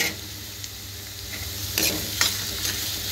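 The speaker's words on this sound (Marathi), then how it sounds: "कांदा टाकून घ्या, कांदा चांगला परता।" Onion and garlic sautéing in a steel pan, a steady close sizzle with a few brief scraping stirs near the end, no voices.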